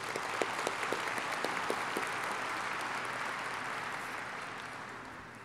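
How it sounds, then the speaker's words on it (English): Crowd applause for the convention center staff in the Long Beach Convention Center Pacific Ballroom, a broad sustained clapping from a large audience, a few crisp nearby claps early on, then slowly fading. "Let's give them another round of applause."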